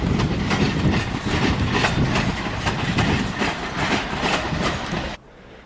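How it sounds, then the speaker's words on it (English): Trains pull into Ealing Broadway station on the Great Western Main Line, loud and close, with a continuous roar and rhythmic clickety-clack of wheels over rail joints that cuts off abruptly near the end. "Okay, 3 trains coming in, all in the same direction."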